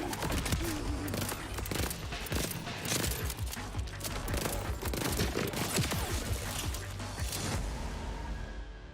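A co-op gun firing in Borderlands 4, sustained rapid shots with dense crackling bursts and occasional heavier booms, loud and continuous throughout.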